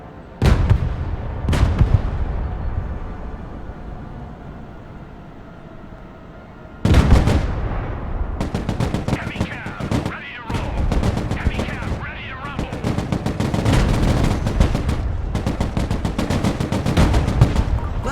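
Main gun fire from an M1 Abrams tank in the real-time strategy game Broken Arrow, with loud, sharp blasts near the start, a heavy boom near 7 seconds and then dense, continuous battle noise until the end.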